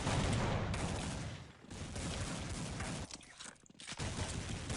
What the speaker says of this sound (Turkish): Glock bu, bu tabanca var ya su tabancası arkadaşlar